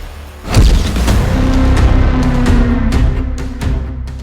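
A deep, powerful nuclear missile explosion booms and rolls on as a sustained rumbling roar, loud and heavy, with crackling bursts over the low drone.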